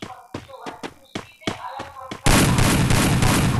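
Shotgun fire in the mobile battle game Free Fire, a series of sharp separate blasts in a row followed by a sustained loud burst of gunfire, with a voice briefly heard early on.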